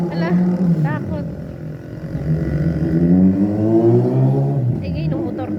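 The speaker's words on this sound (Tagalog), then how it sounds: "ngayon yung motor na yun. Takot sa motor." A motorcycle engine revs and drones nearby with rising and falling pitch, while people talk over it.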